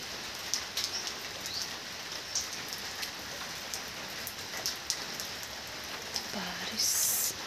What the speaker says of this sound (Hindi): और बारिश पता नहीं कब से आ रही है, रात से आ रही है